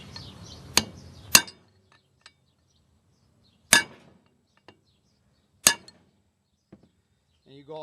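Sharp metallic hammer blows on a chisel seat parts onto a brake rotor of a 1996 GMC 2500 4x4, four loud isolated strikes spaced a couple of seconds apart with faint clinks between, close up in a quiet shop.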